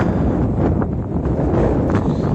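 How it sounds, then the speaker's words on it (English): Strong gusts buffet the microphone beside a shallow dam lake, a loud, continuous low roar of wind noise with no other sound clearly standing out. "The wind's blowing so hard, you probably won't even be able to understand what I'm saying."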